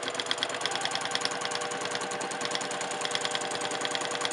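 A sewing machine stitches rapidly and evenly while free-motion quilting a panel, a close, continuous mechanical chatter with a fast, regular pulse throughout.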